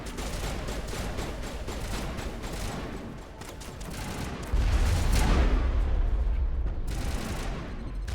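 Rocket fire and blasts in the Mass Effect video game, a dense, continuous barrage of weapon noise throughout, with a louder, heavier explosive surge midway that lingers before easing slightly.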